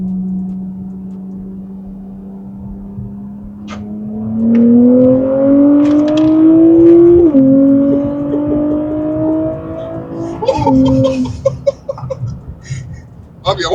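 A 450+ wheel-horsepower Heritage Nissan Z accelerates from a steady idle into a rising engine pull that climbs, shifts, and climbs again, loud and close, with people laughing and chattering over it near the end.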